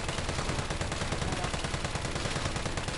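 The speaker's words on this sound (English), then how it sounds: "And then assault rifle, go crazy!" Rapid assault rifle fire in the Resident Evil 3 video game, a dense, continuous automatic burst, loud and unbroken for the whole stretch.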